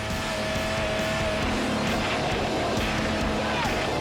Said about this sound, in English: the suspect floors the gas pedal